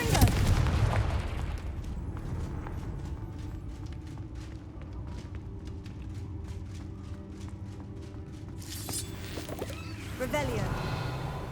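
Confringo fire spell in Hogwarts Legacy bursts with a booming blast, then a stretch of crackling, rumbling game ambience and another impact near the end. Someone speaks over it.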